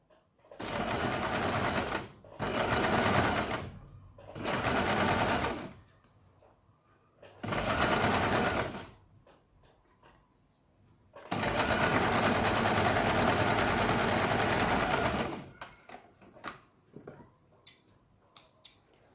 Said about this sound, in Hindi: और यहाँ पे आपको सिलाई लगानी है